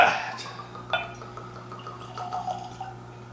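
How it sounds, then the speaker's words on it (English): Old Ezra 7-year bourbon poured into a glass infinity bottle, a brief close glug and drip with a faint clink of glass near the one-second mark, quiet and without talk. "we'll do a fresh pour into the infinity bottle here"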